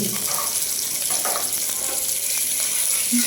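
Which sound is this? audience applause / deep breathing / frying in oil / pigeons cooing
frying in oil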